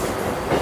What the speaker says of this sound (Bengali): ওই দেখুন দক্ষিণ পূর্ব রেলের একটা ইএমইউ চলে যাচ্ছে